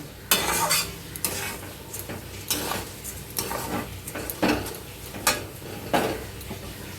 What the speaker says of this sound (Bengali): বেশ কিছুক্ষণ চালটাকে নিয়ে মশলার সাথে মিক্সড করে ভেজে নিতে হবে